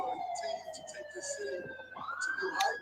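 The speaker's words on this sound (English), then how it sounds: "Little siren coming by." An emergency vehicle siren passes by, its wailing tones gliding down and then sweeping back up near the end, heard at moderate distance over a busy background.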